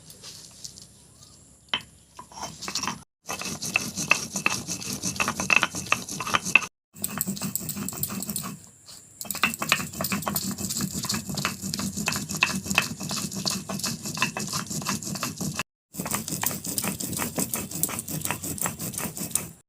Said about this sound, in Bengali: গোটা জিরে, আদা, রসুন আর গোটা শুকনো লঙ্কা আমি একসাথে বেটে নেব।